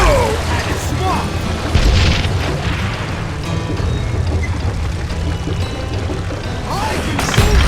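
Dynamite blasts in the Western shooter game Call of Juarez Gunslinger, deep booming rumbles sustained across the clip with a couple of sharper bursts, mixed with game noise and voices talking over it.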